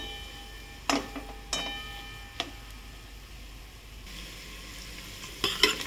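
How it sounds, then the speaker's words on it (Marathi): Masala roasting in oil in a pan for liver curry, with a soft steady sizzle broken by several sharp spoon clicks and scrapes against the pan, close and quiet, without talking. "हे पहा, आता आपलं असं मसाल्याला तेल सुटत आहे। 15-20 मिनिट झाला, अजून मसाला हा भाजतोच आहे।"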